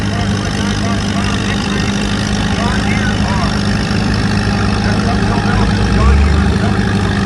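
A pulling tractor's engine labors loudly and steadily while dragging a weighted sled, a constant heavy drone held close with no break across the pull.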